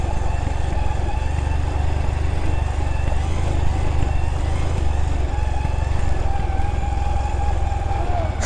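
A Bajaj Pulsar NS200 motorcycle engine drones steadily and close while riding offroad, a continuous low rumble with little change throughout.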